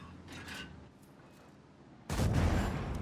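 A heavy tank cannon blast in World of Tanks bursts out partway through and rings on, preceded by quieter rumbling and faint mechanical noise.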